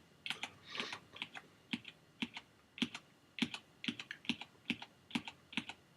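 Clicky keystrokes on an ergonomic computer keyboard with aligned keys tap out in irregular bursts and single presses, close and steady, with no talking.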